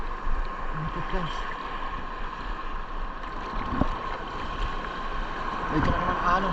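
Big waves slapping and washing against a small boat, a choppy rushing churn of water with wind buffeting the microphone and occasional sharper splashes.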